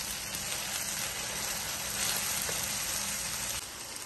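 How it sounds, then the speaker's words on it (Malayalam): Onions and tomato sauté in a pan for Kerala-style fish molee, giving a soft, steady frying sizzle that holds evenly throughout with no talk. "അതിലേക്ക് ഇനി ടൊമാറ്റോ കൂടെ ഇട്ട് ഒന്ന് വഴറ്റിയെടുക്കാം."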